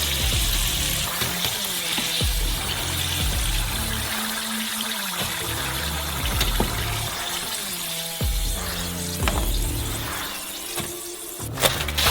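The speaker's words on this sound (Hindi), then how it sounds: "अंत में हमारे वीआईपी फ्रेंच फ्राइज को भूनेंगे।" French fries frying in hot oil, a steady broadband sizzle running throughout with intermittent knocks and clatter of utensils, close and fairly loud, no talk.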